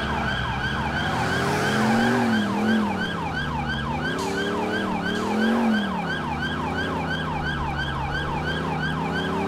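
A wailing police siren in GTA IV cycles continuously up and down, loud and close, over a low engine rumble with no talking.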